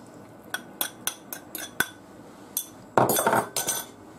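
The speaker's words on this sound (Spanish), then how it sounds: "Y ahora echamos el atún" Tuna is added to a pasta salad: a series of sharp, close taps and clinks of a utensil against a glass bowl, then a brief louder clattering scrape near the end.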